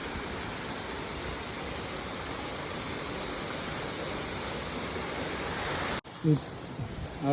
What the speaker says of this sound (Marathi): तुम्ही बघू शकता की किती वगळ वाहते समोर पण बघू शकता पाणी किती वाहत आहे